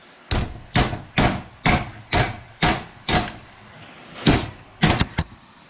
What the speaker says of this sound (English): With the help of a hammer, just going to apply pressure on the end.